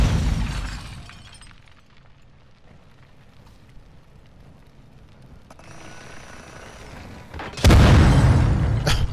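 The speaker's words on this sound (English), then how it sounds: "I had to throw a grenade in." A grenade detonates in Call of Duty: Modern Warfare II during a Search and Destroy match: a single loud, close, broadband blast bursts in near the end after several seconds of quiet in-game ambience, then rumbles on.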